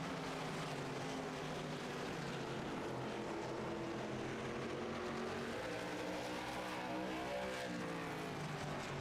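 Race cars lap the track at a USRLA race event, their engines a continuous distant roar that rises and falls as the cars pass, faint and steady throughout.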